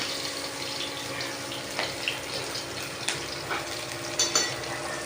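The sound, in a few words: onions frying in a pan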